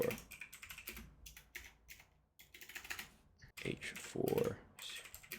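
Rapid clicking keystrokes on a computer keyboard at a trading desk, coming in quick bursts separated by short pauses, close and fairly soft.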